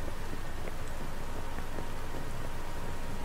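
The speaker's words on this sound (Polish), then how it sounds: "deszcz leje niemiłosiernie" Heavy rain pours down steadily in the city of the game Cyberpunk 2077, a dense, constant roaring hiss with scattered drop impacts, loud and close, no talking.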